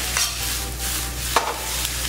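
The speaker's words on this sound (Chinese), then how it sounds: "好，白饭炒开了以后，这时候肉丝下来。" Shredded pork is stir-fried with cooked white rice in a wok over high heat for egg fried rice, with a continuous sizzle broken by a few quick scraping strokes of the spatula.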